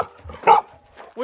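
A dog barks once, sharply and close, with a smaller yip afterward, amid a quiet outdoor setting.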